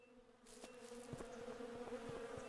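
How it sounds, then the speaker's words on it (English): Bees buzz in the Wild West tile-based survival game Above Snakes. After a brief quiet start, a close, steady, droning hum sets in and continues on its own with no talking. "The other thing, you can hear bees."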